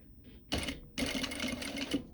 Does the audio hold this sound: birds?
no